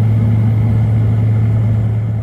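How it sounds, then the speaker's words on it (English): Inside an intercity bus riding from Durres to Tirana, a loud, steady low engine drone and road rumble fill the cabin without pause or voices. "I've made it onto the bus."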